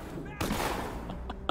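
Gunfire in a Batman video game: a sudden loud burst of shots cuts in partway through, with a quick sharp report at the end, over game sound and voices.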